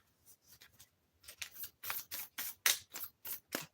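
Magic: The Gathering cards being shuffled into a deck by hand, a series of short crisp riffling bursts, sparse at first then quicker and more regular, close and fairly quiet.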